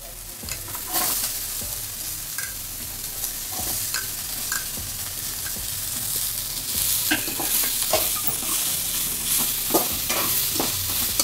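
Onions sizzle and fry in hot oil with ginger-garlic while a spoon stirs and scrapes the pan, steady close frying with scattered clinks, no talking, while cooking Tamil-style egg kuzhambu.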